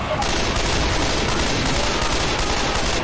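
Dense, continuous gunfire from the video game Left 4 Dead 2 during the Blood Harvest campaign, loud rapid shots blending into a steady barrage with no pauses.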